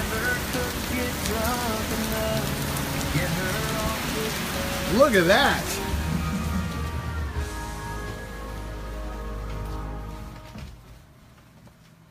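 Steady rain pours down outdoors in Fort Worth, a continuous close hiss of drops on surfaces, with a voice briefly speaking over it before the downpour fades toward the end.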